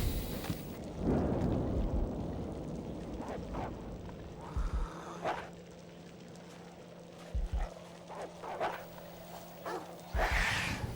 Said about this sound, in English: Well, the dog's having a bad time.